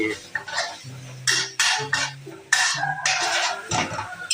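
Instant noodles being stir-fried with dark soy sauce in a pan give bursts of hissing sizzle and clattering metal utensil scrapes and clinks, close and choppy, with someone talking between strokes.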